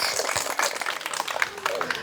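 Crowd clapping for a contestant at a village game played by Bengali village girls, steady and dense throughout, fairly close, with voices mixed in.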